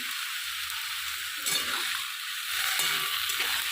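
Bottle gourd simmering in salted water in a kadai, stirred with a spoon: a steady close bubbling hiss, with a few soft scrapes and knocks from the stirring and no voices.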